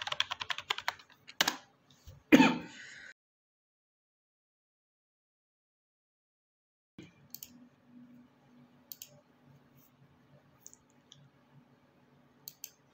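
Password keystrokes on a computer keyboard, a quick burst of close, crisp clicks in the first few seconds, then silence, followed by faint scattered taps over a low hum.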